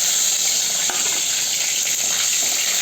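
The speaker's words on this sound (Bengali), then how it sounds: "এই যে মাছগুলো ভাজা হচ্ছে" Silver carp fish fry in hot oil in a pan, giving a loud, steady, close sizzle that runs throughout with no talking.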